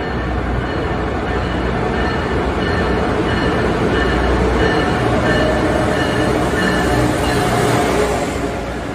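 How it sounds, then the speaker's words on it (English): A train pulling into a Boston station, a loud continuous rumble with rolling wheel noise and faint squeal, steady throughout and close by, with no talk over it. "There's a train."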